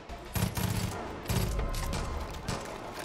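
Rapid gunfire bursts in the video game Far Cry 5, with several quick volleys of shots over a few seconds, fairly loud and close, with no talking.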